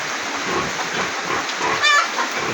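Laying hens in a backyard coop as a typhoon approaches, clucking softly and continuously over a broad wash of wind and rain noise, with a brief higher squawk near the end.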